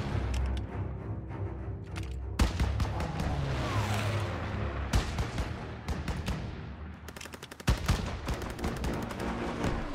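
Dense gunfire in Call of Duty WWII during a battle for a stronghold: rapid machine-gun bursts and single shots crack over a constant roar of combat, loud and close, with no clear speech.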